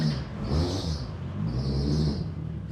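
Toyota 1.5JZ engine fitted in a Nissan S13 idling while warming up outdoors in the rain, a steady low rumble with a faint whining hiss rising and falling, no talk.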